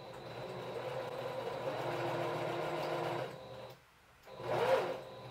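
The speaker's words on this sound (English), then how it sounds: "now I'm going to start sewing" A sewing machine stitching a cloth pad hums steadily and close for several seconds, stops briefly, then whirs again in a short burst; no talking.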